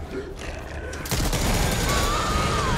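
Gunfire rips out in the co-op zombie shooter Back 4 Blood, a sudden dense burst of rapid shots that starts after a quieter moment and keeps rattling loudly to the end.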